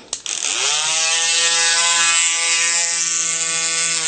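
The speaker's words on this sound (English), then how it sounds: "I'm going to take my drill and I'm going to start to drill it" A steady high-pitched electric nail drill whine starts up quickly and holds constant, loud and close, filing acrylic nails along the cuticle, with no speech.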